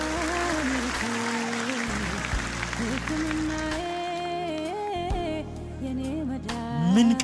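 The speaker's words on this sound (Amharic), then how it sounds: "አጨብጭቡ" A church congregation claps steadily in unison during worship, loud and sustained throughout, with singing and a tonal musical backdrop over the clapping.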